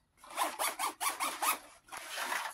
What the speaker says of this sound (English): Test these zips.